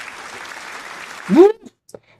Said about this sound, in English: I hope everybody can hear the crowd clapping